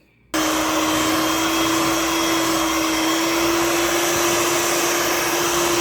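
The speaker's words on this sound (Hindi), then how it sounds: "इसको हम 5 मिनट तक अच्छी तरह मिक्स करेंगे ताकि हवा इसके अंदर चली जाए" An electric mixer whips a custard ice cream mixture, starting abruptly and then running as a steady, loud motor whine with a constant pitch and no break, with no talk over it.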